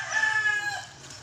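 A fighting cock crows once at a poultry farm, a close, loud call that tapers off over about a second.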